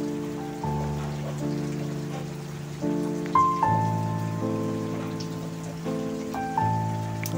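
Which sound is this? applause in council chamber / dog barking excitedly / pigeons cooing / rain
rain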